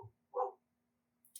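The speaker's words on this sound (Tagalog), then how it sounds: "Sorry, may aso na nga pala kami sa bahay." A single short dog bark rings out at home in a quiet room, brief and mid-distance, with a soft murmur of the person's voice at the edges.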